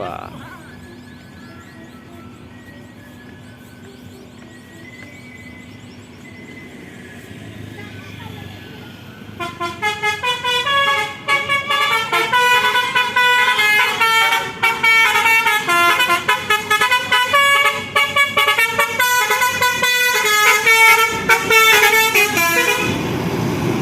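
A Palala intercity bus leaving its terminal for Jakarta sounds its multi-tone horn in a loud, rhythmic repeating melody, rising out of quiet idling into sustained honking close by while talk carries on.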